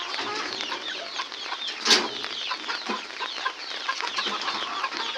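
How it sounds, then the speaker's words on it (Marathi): Chickens and roosters on a free-range poultry farm in Konkan cluck continuously inside a shed, a dense nearby chorus with one sharper squawk rising briefly above it. "आता आपण आपले कोंबडे आहेत त्यांना बाहेर काढणार आहोत"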